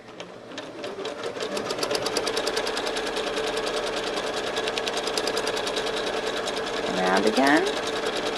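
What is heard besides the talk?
sewing machine quilting a quilt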